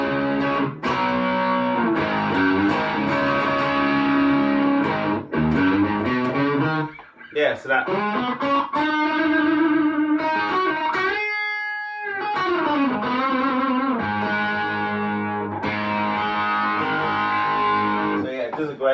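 Driven electric guitar run through an Ibanez CD10 Delay Champ delay pedal with drive from a Blackstar ID Core Stereo 100 amp, sustained notes and chords trailed by warm tape-like repeats, loud and close with brief speech.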